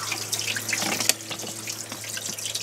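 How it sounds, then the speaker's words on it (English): Water drains by gravity from a 2018 Mercruiser 4.5L Alpha One stern drive engine being winterized, a steady close trickle and splash with no voices. "you can see the water's starting to drain"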